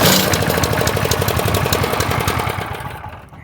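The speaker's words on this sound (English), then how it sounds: "your machine should now fire right up" A small engine, just fixed by bypassing a sensor after a no-spark stall, runs with a steady rapid chugging pulse, loud and close before fading over the last second.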